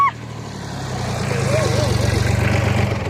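A tractor engine runs steadily, giving a low, even chugging hum close by throughout, with a faint wavering tone drifting above it.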